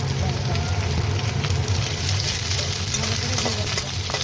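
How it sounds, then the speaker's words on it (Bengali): Onions frying in a pan where bay leaf, cardamom and cinnamon were already fried, for a chicken kosha curry; a steady, close, continuous sizzle with light stirring, no talk. "পেঁয়াজকে ভালো করে ভেজে দিই।"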